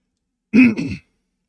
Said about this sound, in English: I'm still clearing my throat because I'm permanently stuck with the throat gunk